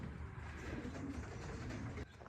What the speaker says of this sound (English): There's another bird.